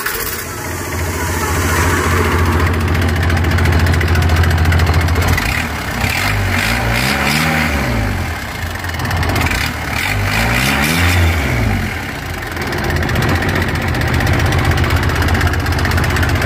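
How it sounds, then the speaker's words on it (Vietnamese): An excavator's diesel engine at a work site in Vietnam's Mekong Delta runs loud and close, a low steady drone that rises and falls in revs, with voices talking over it. "Thôi giờ nổ máy."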